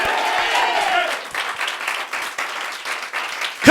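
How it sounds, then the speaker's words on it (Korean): Church congregation applauding during a Sunday morning service, a broad wash of clapping that fills the room before fading slightly, with a voice and a sharp sound near the end. "우리 하나님께 박수로 영광."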